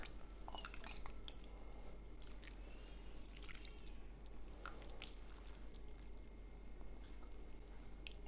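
Someone eats beef macaroni stew with broth and cheese: soft, close chewing and wet mouth sounds over a steady low hum. The sounds are faint and irregular, and nobody talks.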